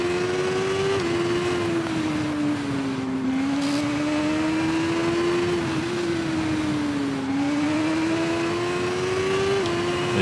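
A superbike engine in the TT Isle of Man 2 racing game drones loudly and continuously, its pitch rising and dipping smoothly through gear changes as the bike accelerates and slows, with no talk over it.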